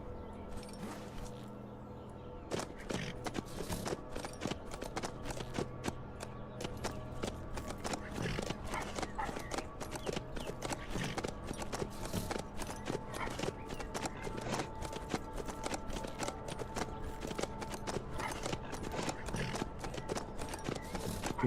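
Horse hooves clip-clop at a steady trotting rhythm in the survival game HumanitZ, close and continuous over sustained tonal background music, with no one talking.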